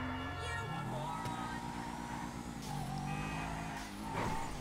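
A customized Aston Martin driving in GTA 5 Online gives a steady, loud engine drone with a shifting pitch and a brief rise near the end, continuous throughout.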